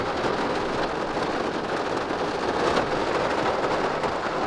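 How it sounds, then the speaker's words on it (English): Heavy rain with lightning at a racetrack roars in a thick, steady wash with faint rumbling underneath, continuous and fairly loud throughout. "Lightning, lots of rain."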